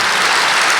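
A brief, loud burst of audience clapping at an indoor spiritual gathering, dense and continuous for under a second with no speech.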